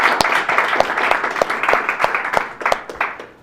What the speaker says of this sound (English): a round of applause for George, who will not hear it